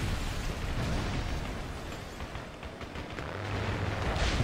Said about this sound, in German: Nochmal eine Bombe ausklinken. Und noch eine Bombe ausklinken.